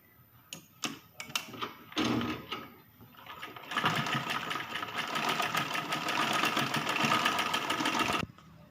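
Sewing machine stitching a long frock for a teenage girl, starting with a few short bursts and stops, then settling into one loud, steady run of rapid stitching that cuts off abruptly near the end.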